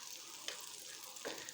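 A bun frying in butter in a pan gives a steady soft sizzle, with two brief louder crackles as it is pressed or moved, and no voices.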